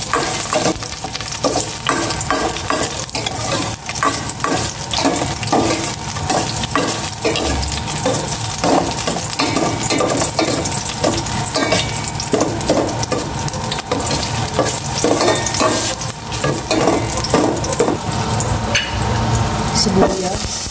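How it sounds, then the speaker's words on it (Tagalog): Garlic sautéing in a pan at the start of a home-cooked Filipino pork and mung bean dish, a steady close sizzle with stirring scrapes running continuously throughout. "Igisa ko na itong bawang."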